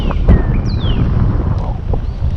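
Wind gusts buffet the microphone out on the water while fishing near a brush pile, a loud low rumble filling the whole moment with a faint whistle above.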